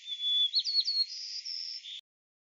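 A sparrow gives a thin, high, sustained whistling call with quick sliding pitch flicks, clear and close against silence, then stops abruptly.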